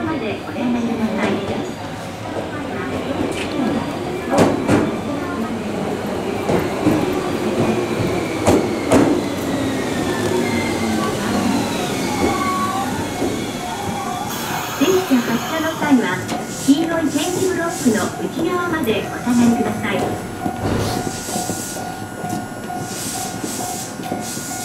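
Trains at Tofukuji railway station in Japan, a continuous rumble of rolling cars with clanks, hisses and screeching wheels, while a platform announcement and voices carry over the noise.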